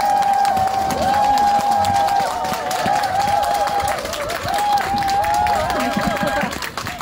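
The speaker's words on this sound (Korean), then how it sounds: "흔쾌히 저희의 그 요청을 받아준 저희 그 피오 카르텟에 좀 큰 박수 좀 부탁드립니다." An audience applauds and cheers for a string quartet at a classical concert celebrating a temple's opening in Sangju. Steady close clapping runs throughout, with a sustained wavering whistle-like tone over a busy crowd.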